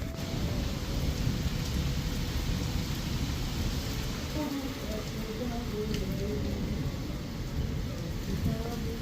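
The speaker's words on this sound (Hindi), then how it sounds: "घर पहुँचते इतनी खतरनाक बारिश हुई" Heavy rain pours down in a hill-country setting, a dense steady hiss of falling water with low rumbling underneath, continuous and moderately distant, and no one speaks.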